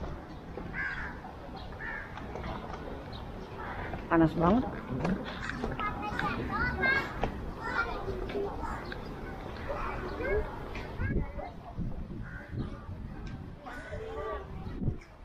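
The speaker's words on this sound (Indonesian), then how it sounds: "Di sini nggak nanggung-nanggung, burungnya burung gagak." Crows caw from a tree in Kuala Lumpur, the calls scattered and partly buried beneath a person talking close by.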